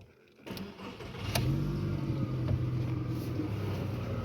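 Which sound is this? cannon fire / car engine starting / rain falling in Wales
car engine starting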